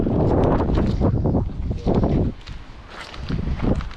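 Strong gusting wind buffeting the microphone up in the Guadalupe Mountains, loud low rumbling surges that rise and fall in waves with brief lulls, no voices.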